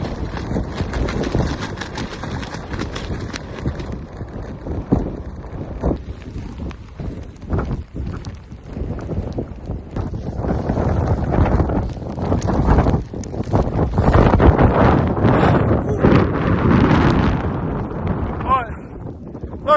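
Strong outdoor wind gusts buffeting a Naturehike Opalus UL 2-person tent, a continuous roaring rumble with flapping fabric that swells louder in the second half, close to the microphone.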